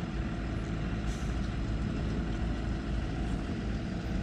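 An RV's engine drones steadily as it is driven and maneuvered onto a road, a dense, loud rumble with no breaks and no voices.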